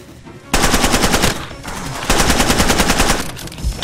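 Loud rapid automatic gunfire from Far Cry 2, two sustained bursts of dense rattling shots separated by a short pause, close and dominant with no talk over it.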